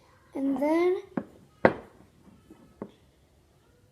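A young child babbles and vocalizes in the background during marshmallow slime making, a brief rising-and-falling voiced burst followed by a few short knocks and taps.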